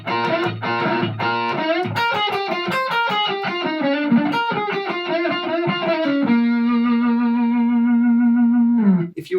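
Electric guitar plays the second half of a song's intro solo, a fast run of bright, driven double-stop bends and repeated licks ending on a long sustained note, loud and close with no voices.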